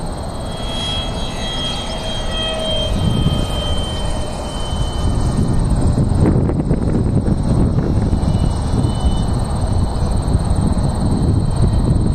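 Radio-controlled MiG-15 model jet with wheels flying in high wind, its steady motor whine continuous and fairly loud beneath heavy, rumbling wind buffeting on the microphone, with no talking.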